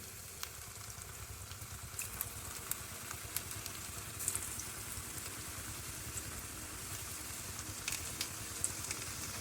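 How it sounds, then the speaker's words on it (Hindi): Boiled potatoes fry in a small amount of hot oil, giving a faint, steady sizzle with scattered soft pops and crackles throughout and no voices. "अभी हम इसमें आलू डालेंगे, लेकिन एक चीज़ का आपने काफ़ी ख्याल रखना है कि ऑयल ज़्यादा नहीं होना चाहिए, क्योंकि आलू ऑलरेडी उबल चुके हैं।"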